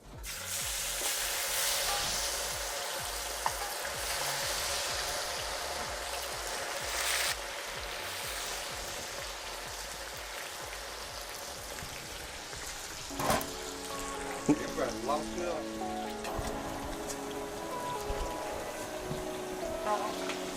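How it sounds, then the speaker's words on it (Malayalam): Chicken frying in a pan gives a steady hiss that fades partway through. Later come clinks and thuds of utensils, plus a few faint sounds resembling voices, all close by. "ഇനി നമുക്ക് കോഴി പൊരിക്കാൻ പോവുകയാണ്."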